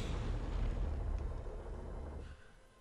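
A cannon tower shot bursts in the Defense Grid 2 strategy game, a loud, dense low explosion rumbling for about two seconds before fading into quieter game ambience.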